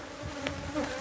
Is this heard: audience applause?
no